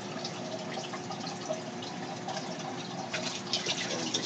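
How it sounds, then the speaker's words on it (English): Sponge pre-filter being dipped and squeezed in aquarium tank water, giving a steady wet trickling and sloshing with a few splashy bursts near the end, close and fairly quiet with no talking. "I always soak up some tank water with the sponge"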